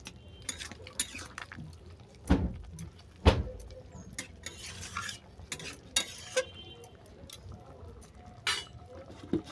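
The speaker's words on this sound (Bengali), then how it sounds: "দিয়ে দিলাম ভেজে রাখা চুনো মাছ আবার ওইটাকে ভালো করে নেড়ে চেড়ে নেবো" A utensil stirs small fried fish in a pan with mustard paste, giving irregular scraping and clinking knocks, two louder ones early on, over a faint soft sizzle.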